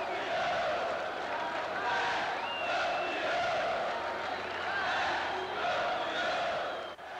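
A stadium crowd at a Brazilian football match between Corinthians and Botafogo roars and chants continuously as Corinthians hold a goalless draw to win the title, with a dense wash of voices and some whistles.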